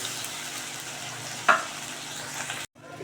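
Masala frying in a pan for a coriander leaf egg curry, a soft continuous sizzle with one sharp clink of a utensil midway, close and fairly quiet, ending with a brief cut.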